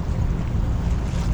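Steady, loud wind rush and water wash aboard a Nacra 570 catamaran sailing into a headwind, a continuous broadband roar with buffeting low rumble throughout.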